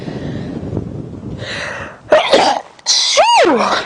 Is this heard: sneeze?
yes